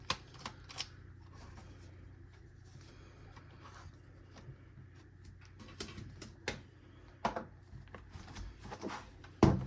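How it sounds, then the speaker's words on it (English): CD-ROM drive being pulled from an HP ZBook 15 laptop: quiet, scattered plastic clicks and taps, a few sharper snaps near the end, all close and faint against a low hum. "Let me remove that CD-ROM drive."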